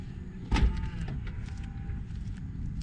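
A Tesla Model Y power liftgate closes at the push of a button, with a soft motor hum and a firm thud as it latches, then a quiet whir in a still setting.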